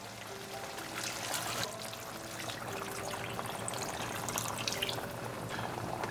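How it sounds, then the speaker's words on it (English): Two cups of hot water poured into a pot of chicken curry, a steady close splashing stream with a faint low hum underneath, continuous throughout. "I'm going to bring 2 cups hot water."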